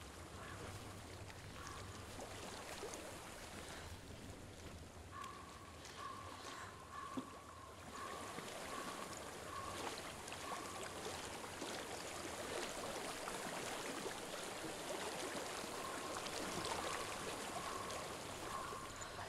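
Flowing stream water in the Hellblade: Senua's Sacrifice video game, a steady rushing wash that holds even and continuous throughout, with a faint low hum and soft tonal hints beneath.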